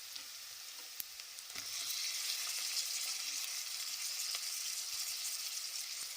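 Chopped onions and tomato frying in a pan for a dhaba-style egg gravy, a steady bright sizzle that swells after a soft tap and holds evenly, close and alone.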